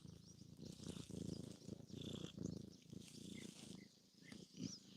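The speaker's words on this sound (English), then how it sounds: "Purring, purring." A cat purrs steadily up close, a low rhythmic rumble rising and falling with each breath.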